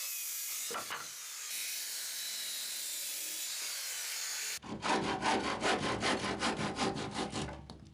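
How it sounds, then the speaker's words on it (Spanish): Wooden roof boards are cut, first with a steady whining circular saw, then with a handsaw making a fast run of rhythmic rasping strokes, close and clear. "Cortaba parcialmente con la sierra circular y el resto lo terminábamos con el serrucho."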